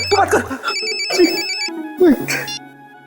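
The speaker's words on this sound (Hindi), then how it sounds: "तेरा फोन बज रहा है" An electronic phone ringtone chimes repeatedly in short bursts while people talk over it nearby.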